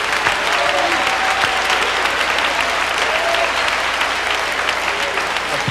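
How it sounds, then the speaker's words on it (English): A church congregation applauds during a sermon, dense and sustained clapping filling the room at a steady, loud level. "Applauding the power of the Holy Ghost."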